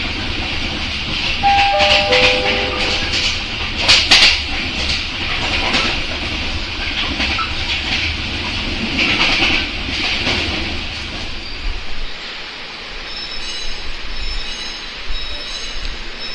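A local commuter train running between Surabaya and Bangil in East Java rumbles steadily along the rails, with brief squealing tones from the wheels and a hissy, rattling carriage noise throughout.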